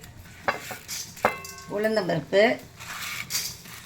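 Urad dal and chana dal roast in a pan with a soft sizzle and a few scraping stirs and clicks of a spoon, while a person talks over the cooking.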